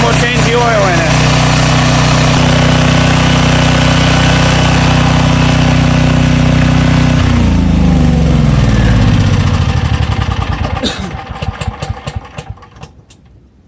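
A Craftsman 11 HP 6300 watt generator engine runs loud and steady right after a cold start, its harmonic drone holding for several seconds before slowing and sputtering down near the end.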